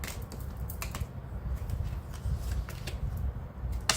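Tarot cards shuffled and laid out close by: quick, papery riffles and soft slaps come in uneven bursts over a low background hum, with no speech.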